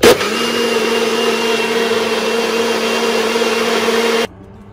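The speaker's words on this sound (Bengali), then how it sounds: "পুরোপুরি এখন 2 মিনিটের জন্য ব্লেন্ড করে নেব।" An electric blender whirs through pitha batter with a loud, steady motor drone, close and unbroken for about four seconds before it cuts off suddenly.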